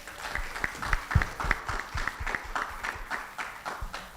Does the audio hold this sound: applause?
yes